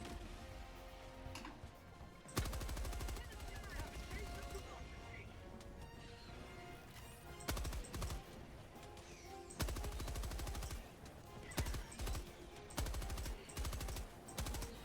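In the Helldivers 2 video game, a weapon fired from a prone position lets out sustained automatic gunfire bursts with heavy impacts and crashes, loud and repeated in long runs, while a person talks over the action.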